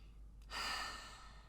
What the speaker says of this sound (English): I finish off with another big, deep breath